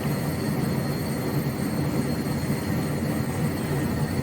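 Erickson SkyCrane helicopter in Microsoft Flight Simulator 2024: a steady, loud turbine and rotor drone with a broad rumbling roar and faint high whine, unchanging throughout, no talk.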